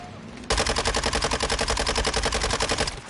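Rapid automatic gunfire in the video game First Class Trouble, a steady stream of close, loud shots starting abruptly and running for about two and a half seconds before cutting off.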